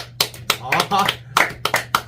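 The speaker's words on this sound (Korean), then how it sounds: "박수." Children clap together during a church service for young people, giving a quick run of sharp, close, irregular claps while voices talk over them.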